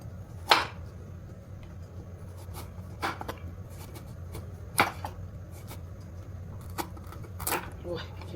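A few sharp, spaced knocks of a knife striking a board, irregular and fairly near, over a low steady background hum.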